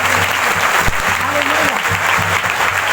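A church congregation at a Sunday worship meeting claps to welcome first-time visitors, dense steady applause filling the room for the whole stretch, with a voice speaking faintly underneath.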